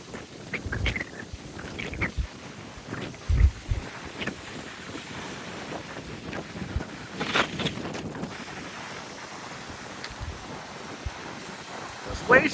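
Rough Northeast Atlantic ocean waves surging under strong gusting wind, with roaring buffets of wind noise against the microphone and irregular crashing swells at a distance.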